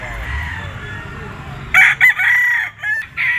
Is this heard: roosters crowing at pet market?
yes